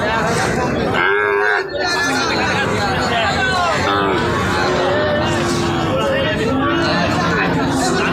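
Sahiwal cattle low repeatedly at a busy border-area cattle market, loud and close, with a crowd of people chattering and talking around them.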